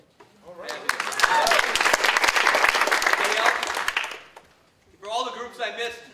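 A conference crowd gathered against drone warfare breaks into loud, steady applause that swells for several seconds, then fades, followed by a voice speaking after a brief pause.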